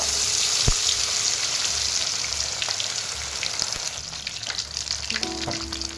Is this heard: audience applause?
no